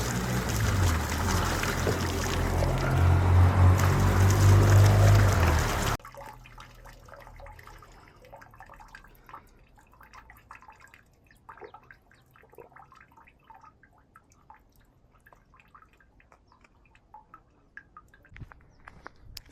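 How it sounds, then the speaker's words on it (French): Tap water gushes loudly from an outdoor tap into a refillable drinking bottle for about six seconds, then stops, leaving quiet outdoor background with faint scattered noises. "Je vais remplir ma gourde."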